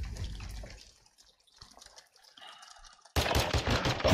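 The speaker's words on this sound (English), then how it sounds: "you're about to get the ultimate warning shot right now" Video game gunfire opens loud, fades to near silence with faint sporadic sounds, then erupts into a dense, sustained burst of rapid shots.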